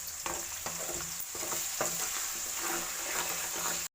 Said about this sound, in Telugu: ఆనియన్స్ అవన్నీ గోల్డెన్ ఫ్రై అంటే బంగారం అంటారు కదా, అట్లా వచ్చేంత వరకు వాటిని డీప్ ఫ్రై చేసుకోవాలండి.